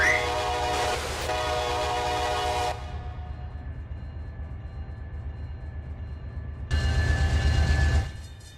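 Diesel locomotive rumble in the Run 8 train simulator as a train eases out of a yard, a steady low engine drone with two stretches of louder, fuller throttle noise, the later one strongest.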